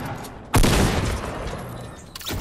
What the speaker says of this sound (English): she got me with a grenade launcher